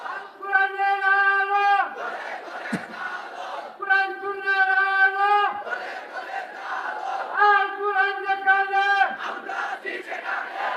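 A large crowd at a Bengali religious sermon gathering chants takbir slogans in unison, three rhythmic call-and-response bursts of many voices shouting together, loud and close, with short pauses between.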